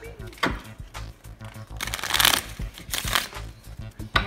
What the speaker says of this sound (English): let's shuffle them